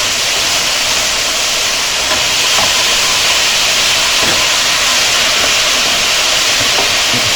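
Cauliflower rice stirred in a hot pan gives off a loud, continuous sizzling hiss with faint scraping ticks from the stirring, steady and close throughout.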